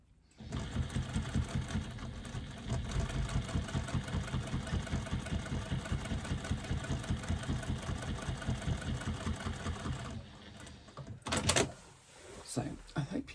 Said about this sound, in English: do a couple of lines of stitching just to flatten out the seam allowance there